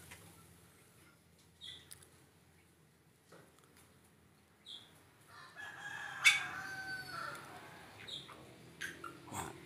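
A Bali myna calls inside an aviary: short bright whistles come every few seconds, then a louder rasping, harmonic call bursts out midway, followed by more scattered chirps over quiet background.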